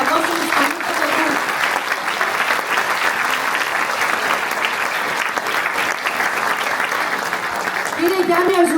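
A warm, sustained round of applause from an audience, dense and steady for several seconds, with a voice talking over the clapping near the start and again at the end.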